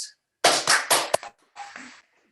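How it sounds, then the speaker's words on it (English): A yoga class claps hands together in celebration at the end of a session, a few short bursts of group clapping followed by a sharp single clap and a brief softer patter. "Give yourselves a big clap in celebration of the week ahead of you."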